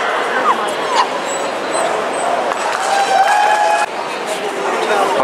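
Dogs at the AKC National Championship dog show in Florida bark and yip around a Shiba Inu ring, with short sharp barks and whimpers over a busy indoor crowd murmur and scattered applause.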